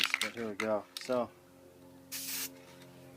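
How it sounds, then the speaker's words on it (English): Never Wet liquid repellent sprays in one short hissing burst onto the tip of a Nike sneaker, coming after a man's brief speech. "just go ahead and pick this one up and just spray the tip of this"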